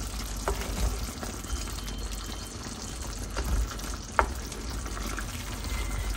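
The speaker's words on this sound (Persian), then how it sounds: "و حالا خوب همش میزنیم" Chicken vavishka with tomato paste sizzles and bubbles softly in a pan with a few scraping clicks of a utensil stirring, no talking.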